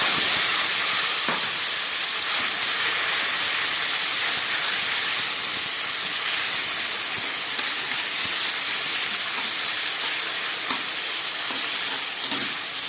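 Taro leaves drop into a hot pan with a fried hilsa fish head, bay leaves, green chillies and five-spice, setting off loud, continuous close sizzling and hissing steam throughout.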